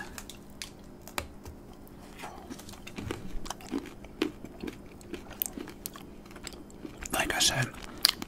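Someone bites off pieces of a MrBeast dark chocolate bar and chews them up close, with soft crunches and wet chewing at irregular intervals, growing busier near the end.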